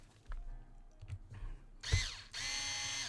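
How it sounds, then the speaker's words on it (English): Electric screwdriver tightening screws while refitting a hard drive into an ASUS ROG GL502V laptop, a few short taps followed by two brief whirring spins of the motor, close and alone. "when I tighten everything down with this electric screwdriver"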